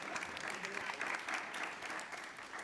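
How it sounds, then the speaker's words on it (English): An audience claps for a university guest speaker at a circular economy event, a dense, even wash of applause that holds steady throughout, fairly distant and moderately loud. "A well-deserved applause to Guido and the University of Urbino"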